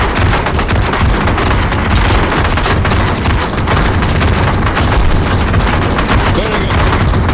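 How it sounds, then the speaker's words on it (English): Many guns firing at once in the game VRChat, a continuous loud barrage of overlapping shots and booms that fills the whole stretch without a break. "that's literally all of these guns going off at once"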